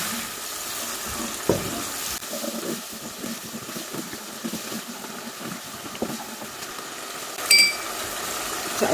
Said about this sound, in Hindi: थोड़ा सा मैं पानी ऐड करूंगी क्योंकि मेरा जो मसाला है सारा वो जल रहा है